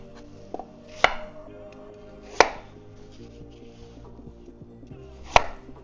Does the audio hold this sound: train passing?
no